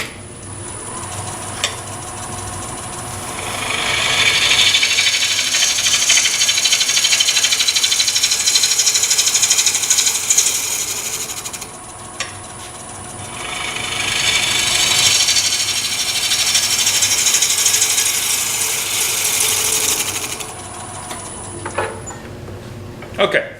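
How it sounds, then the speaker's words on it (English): A bowl gouge makes facing cuts across the bottom of a wooden bowl blank on a lathe, giving two long, loud scraping and hissing passes with a brief pause between them, over the steady hum of the machine. "So let me make a couple of facing cuts to get this surface flat."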